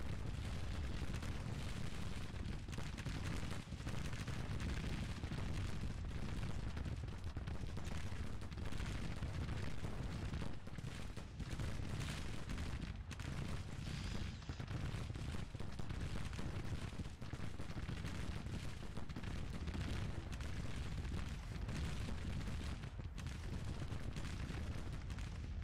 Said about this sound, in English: These cannons are useless.